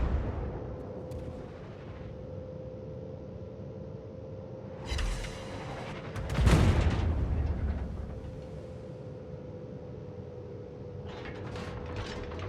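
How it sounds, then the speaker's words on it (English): A Pensacola cruiser's broadside booms once in World of Warships, a heavy rumbling blast rising out of a low steady hum, preceded by a rattling mechanical clatter and followed by fading rumble. "This is a great example of what the Pensacola can do. Now, you don't always get these broadside opportunities"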